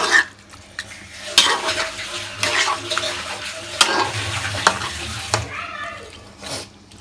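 Meat being stirred and fried with spices in a pan, with a wet sizzle under repeated scraping and clinking of a metal spoon against the pan, close and busy for several seconds.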